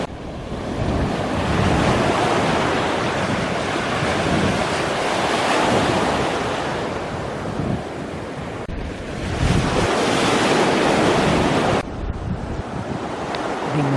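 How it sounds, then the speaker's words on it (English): Sea waves wash steadily onto the beach on the Happisburgh coast as the tide turns, a loud, continuous roar of surf mixed with gusty wind buffeting the microphone throughout. "Looks as if the tide has reached its high tide and is gradually receding now."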